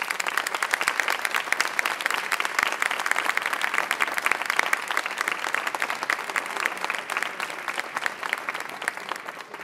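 Steady, dense applause from an outdoor plaza audience at a World Autism Awareness Day event, honoring young student musicians, sustained and fairly loud without talk.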